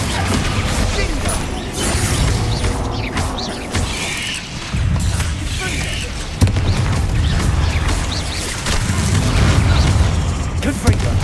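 Spell blasts in Hogwarts Legacy, a string of booming explosions and crackling bursts during combat, repeated impacts mixed with a person's shouting and game noise over the whole stretch.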